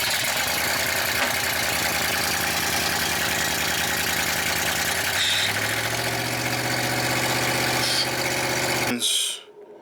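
A Camaro engine idles steadily after a torque converter install, its low rumble shifting pitch partway through before it is switched off and cuts abruptly to near silence.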